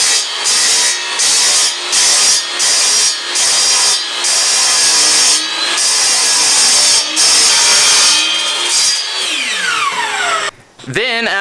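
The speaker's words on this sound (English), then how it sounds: "I pecked it down and cut it that way in order to keep the saw from going all wonky and doing crazy cuts" A saw cuts through aluminum at a steep angle in loud, steady passes broken by short pauses, then spins down near the end.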